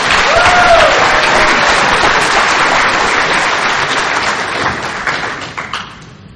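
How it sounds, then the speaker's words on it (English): An audience at an Alcoholics Anonymous speaker meeting in Bowling Green, Kentucky, giving a round of applause, loud and close, steady clapping that thins out and trails off toward the end. "yeah, round of applause"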